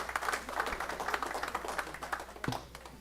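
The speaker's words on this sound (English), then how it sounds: "let's give it a round of applause for these young entrepreneurs right here in the city of North Miami" Council meeting audience in North Miami clapping for young entrepreneurs, a modest, fairly close patter of hands in an indoor chamber, steady for several seconds with a brief thump near the end.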